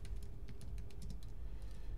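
Rapid clicking keystrokes on a computer keyboard while configuring a Plex Media Server service, close and steady over a low background hum, with no talk.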